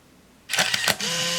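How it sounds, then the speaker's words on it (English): An Olympus Infinity Jr 35mm point-and-shoot film camera finishes its self-timer cycle, with a burst of close mechanical whirring and clicks as the lens moves and the shutter fires, then a steady motor hum. "there is a self timer, and so let's test that as well"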